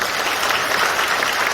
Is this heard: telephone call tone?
no